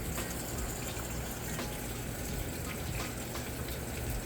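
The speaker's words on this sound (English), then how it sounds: "You can hear that water running down in there, filling the tub up now" Water runs into the tub of a Whirlpool Cabrio HE top-load washer as it fills, a steady close-up rushing and gushing that stays even from start to end with no voices.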